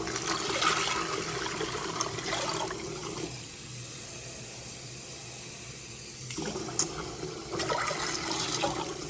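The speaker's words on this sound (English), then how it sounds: "I'm gonna add some water to it." About half a cup of water is poured into a small container of washed red beans. A steady splashing stream runs, drops to a softer trickle in the middle, then picks up again.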